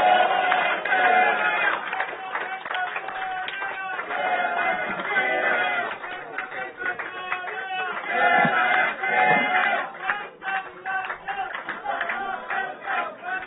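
Audience applause and crowd noise at a welcome reception as a party leader is invited to the stage, loud and sustained throughout with scattered cheers.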